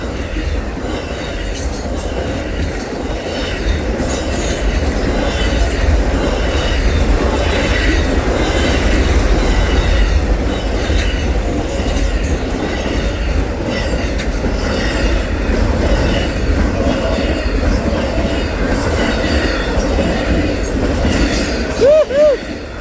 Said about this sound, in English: Amtrak auto train from Orange Park, Florida.